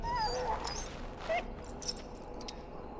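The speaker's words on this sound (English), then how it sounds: "Now I can treat the dog properly, poor fella." A dog in a pen in Dragon Age: Origins whimpers and yips in short, thin, high cries scattered across a few seconds, close and fairly soft over a low background.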